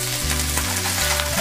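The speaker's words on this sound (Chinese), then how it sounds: "煎了定型以后，就可以把鱼反个面煎一下" Yellow croaker fish pan-frying in a hot pan, a constant loud sizzle with steady hiss over a low background hum and no voices.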